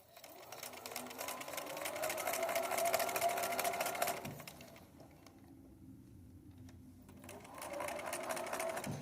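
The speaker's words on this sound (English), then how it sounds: "I'm going to sew on my paper again" A sewing machine stitches fabric onto paper for a quilt project in two close, steady whirring runs with a quiet pause between them.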